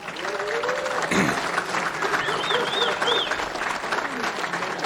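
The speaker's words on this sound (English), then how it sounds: "another round of applause for our Mayor Sam Joshi" Audience at the Edison State of the Township event applauds the mayor in a sustained, loud round of clapping, with faint whistles and cheers rising through the middle.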